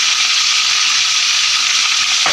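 Chicken liver sizzles loudly and steadily in hot oil with garlic, a dense, close, continuous frying hiss with no talk over it and a small clatter right at the end.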